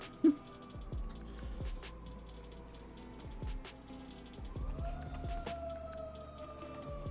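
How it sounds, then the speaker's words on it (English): Emergency sirens heard from outside, with passing trucks nearby: faint, distant wailing tones slowly rising and falling under a steady low traffic rumble, no talking. "Oh, there's the sirens."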